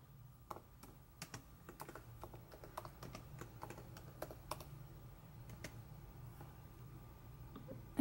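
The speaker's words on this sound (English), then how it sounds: "So I'm going to type that in." Typing on a computer keyboard while writing a blog post: quiet, irregular key clicks close by, in loose bursts for about eight seconds against a faint room hum.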